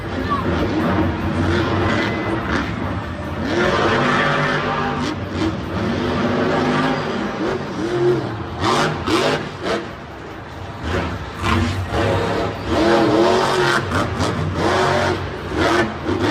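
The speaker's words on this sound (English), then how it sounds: "Ready to give him a good Gravedigger run and a nice transition there into a wheelie." In a stadium run, the Gravedigger monster truck's engine revs and surges repeatedly, loud and close. A crowd roar rises underneath, and announcers talk over it.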